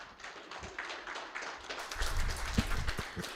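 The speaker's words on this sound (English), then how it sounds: "Give a warm applause to Mr." An audience at an IT and AI skills conference applauds a speaker, the light, scattered claps building and thickening toward the end, with a few dull taps and thumps close by.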